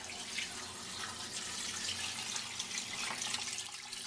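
Filtered tap water pours steadily into a pot for bone broth, a soft continuous rushing and splashing with no talk.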